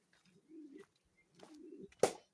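A pigeon coos twice in low, soft rolling phrases, followed by a brief sharp flutter or clap at the end; quiet surroundings.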